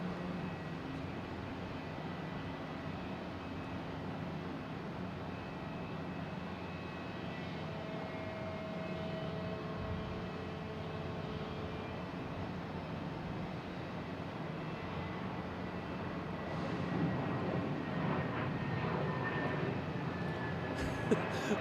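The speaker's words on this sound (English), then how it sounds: "I got to spin this camera around to catch these planes" Fixed-wing airplanes at Boston Logan International Airport roar steadily from a distance as jets taxi and pass, a sustained engine drone that swells slightly toward the end.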